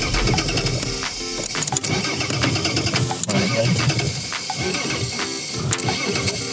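A worn, already broken car's engine is started and then runs loudly, a rough mechanical churning with irregular knocks and rattles, close to the listener and with no talk over it.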